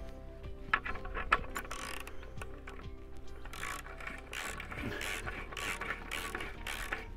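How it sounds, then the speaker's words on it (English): A 15mm socket ratchet tightens a bolt while a wooden fence post is fixed to a wall. Close, fairly loud ratcheting clicks and metallic mechanical rattles come in irregular bursts with no talking. "nip this up with a 15mm socket and a wrench or a ratchet"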